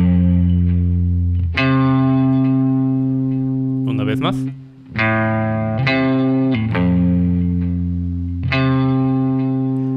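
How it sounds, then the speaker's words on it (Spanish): Electric guitar picked near the edge of the strings for a brighter tone, ringing chords with a shimmering effects-laden sound, struck several times with a few sustained pauses, and someone briefly speaks between them. "para dar ese sonido más brillante, lo que hacemos es tocar casi al borde ya de las cuerdas"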